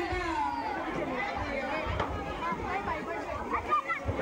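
Crowd chatter at a village Ganesh idol immersion, a busy outdoor babble of many voices overlapping at moderate loudness with no single clear speaker.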